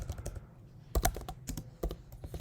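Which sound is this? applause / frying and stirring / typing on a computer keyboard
typing on a computer keyboard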